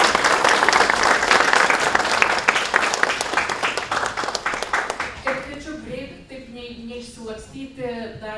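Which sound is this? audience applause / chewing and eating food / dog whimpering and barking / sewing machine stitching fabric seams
audience applause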